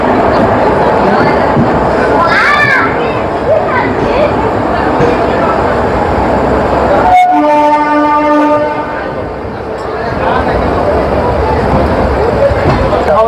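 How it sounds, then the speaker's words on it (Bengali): The Sealdah Puri Duronto Express pulling out, heard from on board: a loud, continuous rumble of railcars with a long horn blast partway through, and a voice talking over the noise. "8:01 শিয়ালদা পুরী দুরন্ত এক্সপ্রেস রওনা দিল পুরী যাওয়ার উদ্দেশ্যে"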